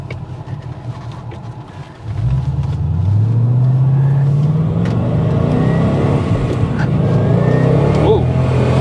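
A 600-plus horsepower Procharged Ford Mustang GT engine starts low, then surges as it accelerates, the revving pitch climbing loudly and steadily over several seconds.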